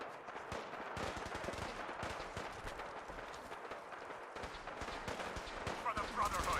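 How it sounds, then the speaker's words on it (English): Rapid gunfire crackles down from an elevated position in Fallout 4, a steady stream of sharp shots at mid distance that lasts the whole stretch, with a busier burst near the end. "Getting shot at from up there"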